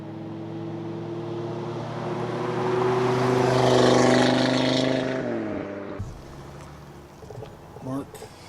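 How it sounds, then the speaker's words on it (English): A car passes close by, its engine and tyre roar swelling to a loud peak and then dropping away abruptly, followed by quieter rustling and a short bump. "an example of using an independent recorder of a car going by versus using a shotgun mic mounted onto a camera with a car going by"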